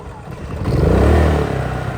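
A generator mounted on a race car trailer cranks and settles into a steady, loud, close engine drone that swells briefly before holding level.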